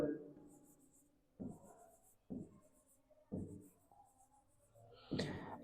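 Pen strokes scratch on paper while an English letter is written out, coming in a few short bursts between pauses, close and soft.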